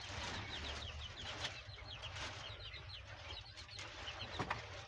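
Many newly hatched giant quail chicks chirp together in a steady chorus of thin, rapid peeps close by, with a constant low hum underneath.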